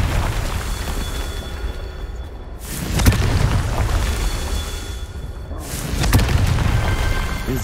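Two booming fire-spell blasts from Confringo in Hogwarts Legacy burst out a few seconds apart, each a sharp crack followed by a rolling, crackling roar over continuous game ambience.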